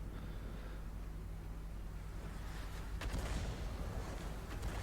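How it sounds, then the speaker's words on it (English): Incoming artillery fire in a World of Tanks battle, a heavy explosive blast surging up from a low rumbling background around the midpoint and lingering as a dense, noisy roar. "Artillery incoming."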